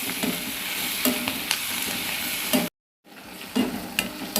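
Curry leaves and gooseberry sauté in a pan with tomatoes for a sesame chutney, a constant close sizzle with rhythmic spoon scrapes, cut by a brief moment of silence before the stirring resumes.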